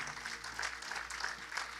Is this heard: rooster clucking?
no